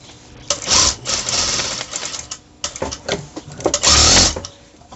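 A sewing machine stitches the inner leg seam of a trouser, loud close bursts of fast rattling needle strokes with short stops between runs.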